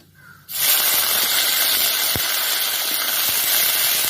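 Ginger garlic paste hits hot oil and bursts into a loud, close, continuous sizzle that holds steady after a quiet start. No one speaks.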